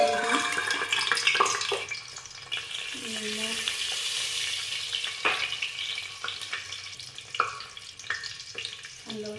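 Eggs frying in refined oil in a pan while making egg biryani, a steady soft sizzle with scattered crackles and a few clinks of a utensil stirring, fairly close in a home kitchen.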